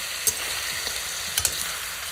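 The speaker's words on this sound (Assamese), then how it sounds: "এতিয়া ইয়াৰ পৰা তেল ওলালৈকে ভাজিব লাগিব" Pork fries in oil with bay leaf and dried red chillies in a kadai, giving a close, steady crackling sizzle with a few sharp pops and stirring clicks.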